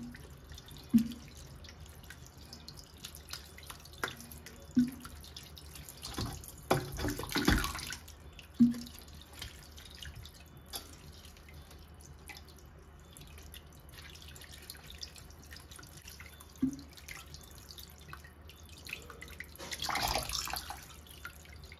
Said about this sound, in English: I have vinegar, so I use vinegar for wash it as well.